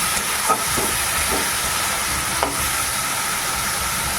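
Cumin, chilli powder, turmeric and salt frying in oil in a home kitchen while being stirred, a steady close sizzle with occasional scrapes of the spoon.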